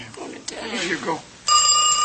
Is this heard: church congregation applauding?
no